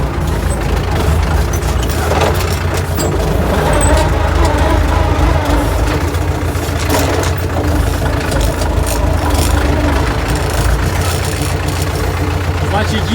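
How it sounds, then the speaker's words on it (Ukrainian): A tractor pulling a cultivator between cabbage rows runs with a loud, continuous engine drone and rumble close by, steady throughout with no pauses. "Але такі культиватори люблять скорість. Більше газу."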